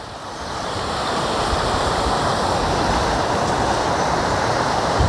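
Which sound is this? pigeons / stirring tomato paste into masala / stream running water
stream running water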